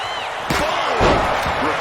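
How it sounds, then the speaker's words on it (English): A steel chair strikes a wrestler in the WWE 2K26 video game: two sharp, loud slams about half a second apart over a continuous roar of arena crowd noise. "Did you hear that chair shot?"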